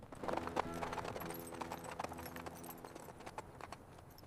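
A horse arrives along a hard road with a rider, its hooves clip-clopping in a steady, moderately paced rhythm, faint and somewhat distant under soft music.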